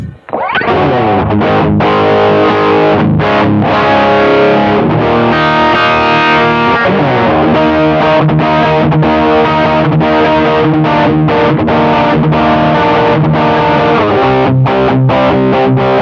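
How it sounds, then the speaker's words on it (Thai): Electric guitar with a distorted tone on the bridge pickup, played loud and continuous for the whole stretch, with sustained, saturated chords and riffs broken by brief choppy pauses. "เสียงแตกครับ ใช้พิกอัพตัวหลังนะครับ"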